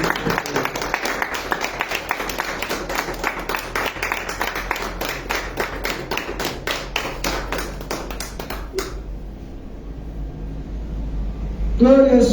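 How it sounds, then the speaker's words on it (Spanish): Church congregation applauding together, a dense burst of steady clapping for about nine seconds that stops abruptly, leaving quiet room tone before a voice begins. "Dale un aplauso al Señor Jesús."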